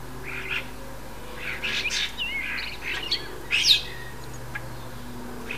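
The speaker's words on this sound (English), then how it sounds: "The starlings fight over the coconut, and they all chatter continuously and rather loudly." Starlings chatter and squabble over a coconut, with bursts of harsh chirps and whistles coming in irregular clusters over a low steady background hum.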